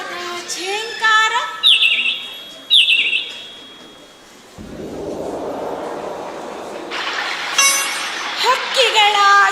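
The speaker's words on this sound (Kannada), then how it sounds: "ಹಕ್ಕಿಗಳ ಚಿಲಿಪಿಲಿ ಗಾನ" Birds chirp in bright, repeated tweets in an outdoor garden scene staged for a stage play, with a swelling whoosh of ambient noise in the middle and more chirping and trills afterward.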